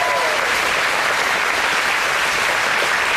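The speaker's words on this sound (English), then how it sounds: "Let's give all these buyers a round of applause." A large crowd at a county graduation auction applauds the buyers, a dense, steady roar of clapping that fills the space from start to finish without a break.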